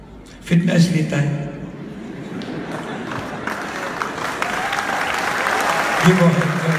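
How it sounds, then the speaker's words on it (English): Church congregation clapping hands during a ring ceremony at a ministry service, a dense burst of applause rising after a brief voice, with talk and a voice over the clapping near the end. "Give a hand clap to the Lord"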